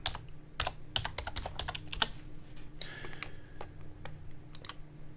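A layer name is tapped out on a computer keyboard in a quick, uneven string of crisp key clicks, close and clear, then a few slower taps.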